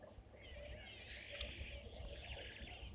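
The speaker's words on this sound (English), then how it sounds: "Then you hear the hornbills. They're busy doing a display. That's that call that you can hear." Hornbills call during a display at an African waterhole, a distant wavering series of bird calls rising in the middle of the clip over a faint outdoor background.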